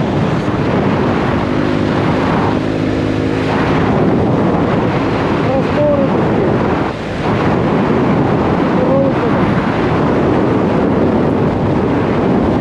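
Strong wind over open steppe roars steadily into the microphone near Astana, Kazakhstan, a constant heavy rumble buffeting throughout with no clear voices.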